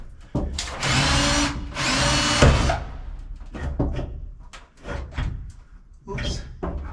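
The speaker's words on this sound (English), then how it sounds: "I have to drill out a rivet." A power drill whines loudly in two long bursts drilling out a rivet near fiberglass, then shorter clattering bits of tool noise and handling follow, close up.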